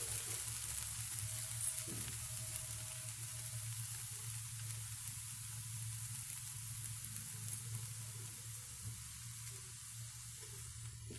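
Uggani, a puffed rice upma, fries in a pan with a soft, continuous sizzle over a low steady hum, quiet and close, with no one speaking.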